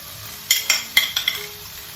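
Spoon stirring chilli, tomato and soy sauces into chicken in a frying pan, a quick run of five or six scraping clinks against the pan over a faint steady sizzle, no voices.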